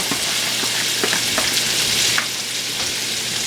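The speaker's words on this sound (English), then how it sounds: "Start frying up the onions with the meat." Steady close-up sizzling of onions and meat frying in a pan, with occasional stirring clicks and scrapes, continuous and fairly loud with no talking.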